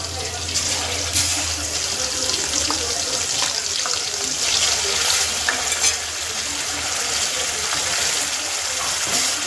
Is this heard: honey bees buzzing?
no